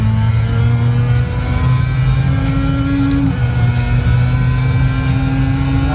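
A race car engine in a high-end home racing simulator hums loudly and continuously, holding steady revs with a slight pitch rise and drop midway, with faint clicks on top.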